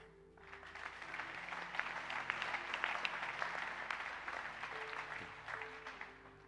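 A congregation at an Easter seminar applauds in a church hall, sustained dense clapping that rises quickly and holds steady over a soft sustained keyboard note.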